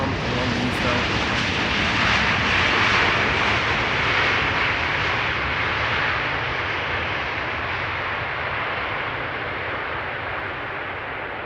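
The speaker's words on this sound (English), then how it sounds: "this is BA Flight 430 arriving from London Heathrow" A British Airways jet, flight 430 in from London Heathrow, comes in to land at Amsterdam Schiphol with a loud, broad, steady roar. The roar slowly eases off as a person talks over it.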